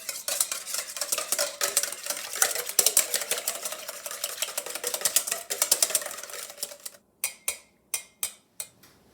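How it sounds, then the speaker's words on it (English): Eggs whisked in a bowl for pumpkin nut bread, a fast, continuous rattling clatter of the whisk against the bowl, then several separate sharp taps near the end. "Go ahead and whisk my eggs."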